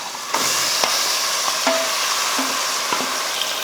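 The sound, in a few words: marinated chicken added to frying onions, sizzling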